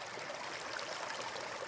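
A small stream flows steadily, a soft continuous wash of trickling water heard alone at close range with no pauses.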